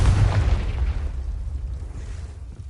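A Confringo spell explosion in Hogwarts Legacy on PS5, a loud deep boom that bursts at once and then rumbles and fades over a couple of seconds.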